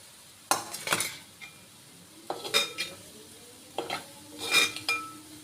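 Cooked rice with mango is stirred in a pan with a spoon, giving three distinct bursts of close scraping and clinking against the metal.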